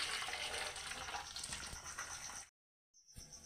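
Tap water runs steadily over boiled chowmein noodles during rinsing, a close, continuous splashing gush that stops briefly and then resumes more faintly.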